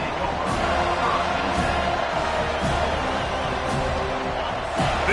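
A large football stadium crowd roars steadily throughout with scattered whoops and yells, a dense continuous wall of noise from a college football game.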